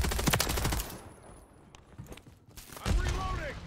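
Automatic gunfire from an AMR9 rifle in Call of Duty Modern Warfare III, a rapid close burst, a quieter lull, then another loud volley, with a voice speaking briefly.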